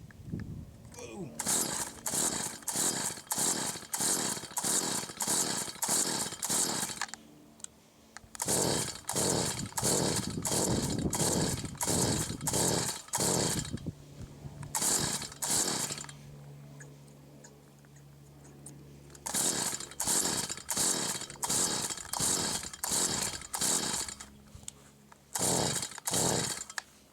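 A Stihl FS38 string trimmer engine runs after being restarted, buzzing loudly in a regular pulsing rhythm that revs in repeated bursts, with brief quieter idle stretches between them and voices speaking in places.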